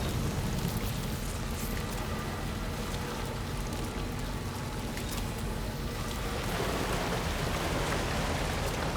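Steady heavy rain in Death Stranding 2: On the Beach hisses continuously, a dense wash of drops pattering on surfaces with no voices, unchanging throughout.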